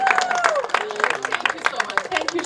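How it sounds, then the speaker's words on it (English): Wedding guests applaud in a reception hall, a dense patter of claps with scattered cheers and crowd noise running steadily throughout, while a voice talks over the clapping. "let's give a round of applause for the one and only, Farima Jun."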